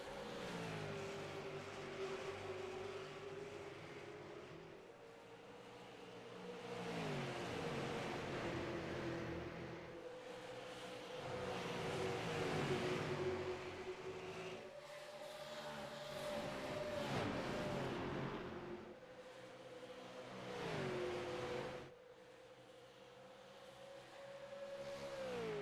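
Race cars circle Dover Motor Speedway in the iRacing video game, engines droning loudly in a steady, layered roar with pitch rising and dipping as the pack accelerates and passes.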